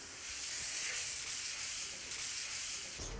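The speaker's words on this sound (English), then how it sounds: "Now we need to give the whole bath a really good sand." Sandpaper scraping over a bathtub surface by hand, steady close rasping broken into regular back-and-forth strokes about twice a second, with no talking.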